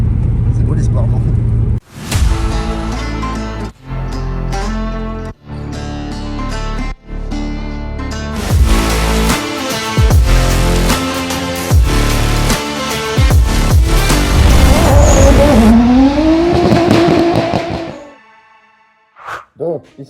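A Toyota Supra engine running on six or seven cylinders revs loud and close in repeated rising and falling pulls, ending with a sweeping climb before it cuts off.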